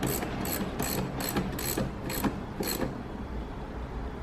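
A ratchet clicks in a quick run of about seven even bursts while tightening a fastener on the air intake box of a 2013–2021 Mitsubishi Outlander, then falls quiet.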